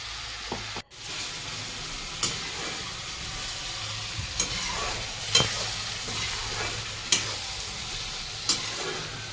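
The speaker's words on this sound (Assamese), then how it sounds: "আনফালে মই কেৰাহীত মটনখিনি সিজিবলৈ দি দিলোঁ ল' ফ্লেমত সিজাম" Mutton cooks in a kadai over a low flame, sizzling softly and steadily up close, broken at intervals by sharp spoon scrapes and clinks against the pan.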